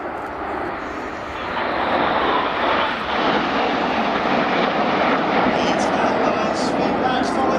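Red Arrows jets fly overhead in formation with a loud, broad roar that builds and holds steady while a commentator talks over it.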